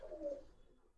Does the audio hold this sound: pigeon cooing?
yes